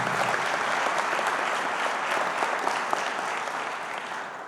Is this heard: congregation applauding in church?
yes